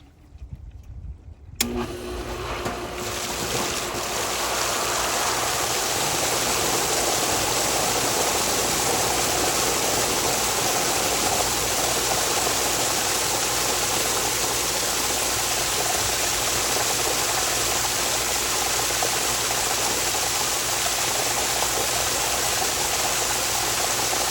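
Pool DE filter in rinse position with water rushing through, a broad steady roar that starts suddenly after a brief quiet opening and holds loud and constant.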